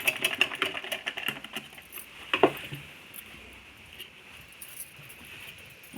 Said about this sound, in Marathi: आता आडवी शिलाई मारते.